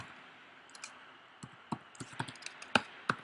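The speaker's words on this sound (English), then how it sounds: "typing ellipse." Keystrokes on a computer keyboard while a short command is entered in a coding tutorial, a sparse run of close, crisp clicks that grows busier toward the end, with no talking.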